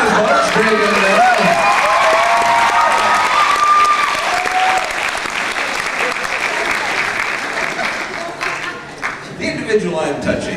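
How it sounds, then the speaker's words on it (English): Audience applause at a 2004 high school senior party hypnotist show, a loud, dense wash of clapping and crowd noise lasting throughout, with a few whoops and voices mixed in before it thins toward the end. "Big round of applause"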